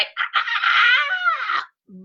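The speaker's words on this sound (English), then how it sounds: "You just have to go see like the winning roosters." A rooster crows once at a county fair, close and loud, its long strained call lasting over a second, followed by a brief low sound.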